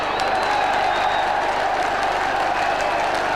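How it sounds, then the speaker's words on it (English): Football fans at an FA Cup third-round match between Wrexham and Middlesbrough applaud Phil Hardy by the left touchline, a dense, continuous wash of crowd clapping and murmur held at a steady loud level throughout. "Applause for Phil Hardy, who's had a good game down this left touchline."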